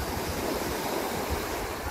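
Waves rolling in on Pensacola Beach, Florida, a dense continuous wash of surf with some wind rumble, close and fairly loud for a short stretch.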